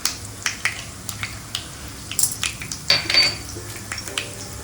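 Urad and chana dal with curry leaves, mustard seeds, cumin and asafoetida frying in oil while a spoon stirs the pan, giving soft sizzling and irregular metallic scrapes and clinks, close and quiet.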